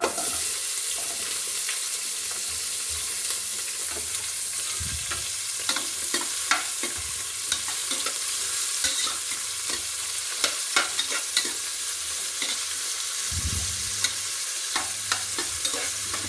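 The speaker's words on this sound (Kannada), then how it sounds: "ಒಗ್ಗರಣೆ ಎಣ್ಣೆ ಕಾದಿದೆ, ಹಾಕ್ತಿದ್ದೀನಿ. ಈರುಳ್ಳಿ 2 ಹಾಕ್ತಿದ್ದೀನಿ." Onions frying in hot tempering oil for tomato bath: a continuous loud sizzle close by, broken by frequent sharp spoon scrapes and clinks against the pan, with no voices.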